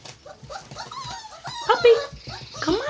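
A puppy whimpering and yipping close by, a run of short high-pitched whines and yelps coming out of its crate for breakfast.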